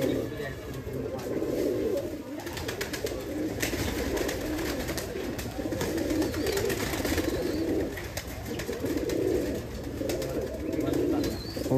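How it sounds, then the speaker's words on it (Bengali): Giribaz pigeons coo in a loft in a steady, overlapping chorus of low throaty calls close by. People talk throughout and constant background noise sits beneath the cooing. "কবুতরের রূপ দেখুন, মানে ডাকটা অনেক সুন্দর।"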